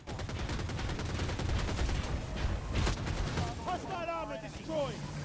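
Helicopter guns firing in rapid bursts in the video game Battlefield 2042, dense crackling gunfire rolling for a few seconds before thinning out, followed by whistling and chirping electronic tones and a low steady drone.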